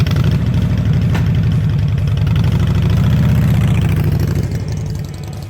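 A Harley-Davidson Night Train motorcycle engine idles loudly and close, a steady low rhythmic thrum that slightly rises then fades near the end.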